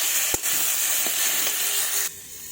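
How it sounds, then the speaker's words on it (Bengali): Chopped tomato is stirred into a fish head curry frying in a pan, giving a steady close sizzling hiss with a light scrape or two, before the sizzle drops abruptly near the end. "টমেটো কুচিটা দিয়ে একটু নেড়ে দেবো।"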